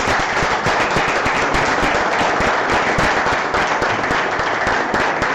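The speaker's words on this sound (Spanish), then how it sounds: "Para esas compañeras, para esos compañeros yo pido un fuertísimo aplauso." Dense, loud applause from a large audience at a political speech, a continuous roar of many hands clapping at once, steady and sustained throughout with no talking heard.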